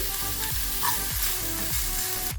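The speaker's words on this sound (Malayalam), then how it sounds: "ഇതൊന്ന് വഴറ്റിയെടുക്കണം." Onions sautéed with chili and turmeric powder in a pan hiss steadily up close while a spatula strikes the pan in a regular stirring rhythm, about two strokes a second.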